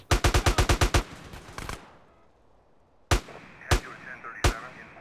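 An AK rifle in GTA fires a fast burst of about eight sharp shots, then after a pause three more single loud cracks ring out, each with a short echoing tail.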